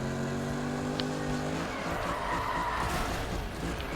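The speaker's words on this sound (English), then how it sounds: "For a muscle car, this actually drifts pretty well." A Ford Mustang muscle car drifts in Need for Speed 2015, its engine note dropping as tires squeal and scrub through a long slide, steady and up close.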